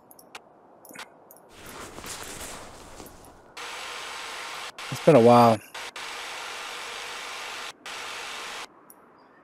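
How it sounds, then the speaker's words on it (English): Ice drilling in the video game Ultimate Fishing Simulator, a steady whirring grind through the ice that stops and restarts, close and moderately loud, with a brief spoken line in between. "So we press R to start drilling in the right."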